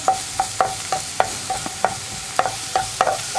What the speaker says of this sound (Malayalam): സവോളയും കൂടി ചേർത്തിട്ട് നന്നായിട്ടൊന്ന് വഴറ്റിയെടുക്കുക.